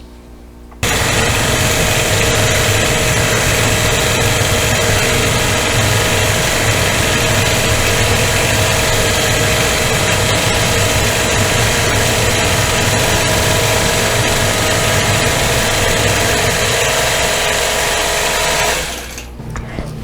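A longarm quilting machine stitches the background of a Lone Star quilt, a steady loud mechanical whir and rapid needle chatter running continuously for most of the clip before stopping near the end.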